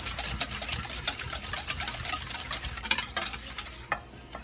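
Crab cake mix being stirred together with lemon juice in a bowl, a close run of soft scraping and clicking utensil strokes in a fairly steady rhythm, with no voices.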